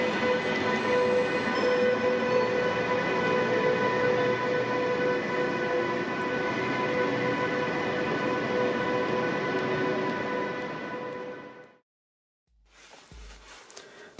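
German electric locomotive 101 112, an advertising-livery engine, departs Frankfurt main station with a steady, loud rolling roar and electric whine that holds for about eleven seconds before cutting off, followed by quieter station ambience.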